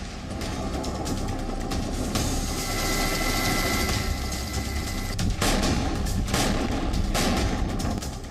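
Russian warships' heavy naval guns fire on the Black Sea in repeated booming bursts over a continuous rumbling engine-like background, loud and dense throughout.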